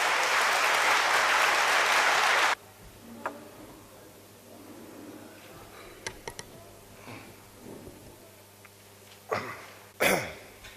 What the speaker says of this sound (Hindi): जोरदार तालियों से स्वागत करें कर्नल साहब का।